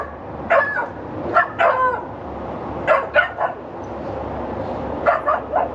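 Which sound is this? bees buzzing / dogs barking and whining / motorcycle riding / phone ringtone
dogs barking and whining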